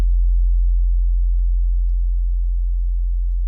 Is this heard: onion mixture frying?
no